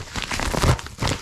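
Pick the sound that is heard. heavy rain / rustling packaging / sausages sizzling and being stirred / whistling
rustling packaging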